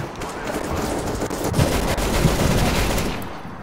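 M249 light machine gun fire in the game Counter-Strike, heard as a dense, loud, continuous stream of automatic shots filling the whole stretch with no pauses.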